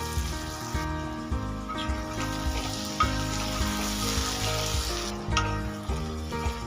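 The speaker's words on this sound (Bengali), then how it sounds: "আলুগুলো যাতে ফিফটি পার্সেন্ট সেদ্ধ হয়ে যায় সেইভাবে ভেজে নেব" Oil sizzles steadily in a pan as potatoes fry until half-cooked, a soft continuous crackle with occasional clinks and stirring sounds.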